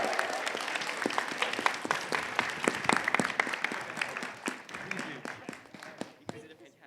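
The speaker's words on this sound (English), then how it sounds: "How about a massive round of applause" An audience at a convention script-reading panel breaks into sustained applause, dense clapping that holds steady for several seconds before thinning out, with voices mixed in.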